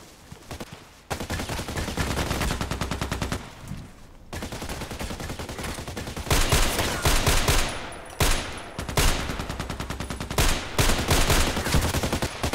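Gunfire in a shooter video game comes in rapid bursts of loud, close shots and automatic fire, separated by brief lulls and repeated across the stretch.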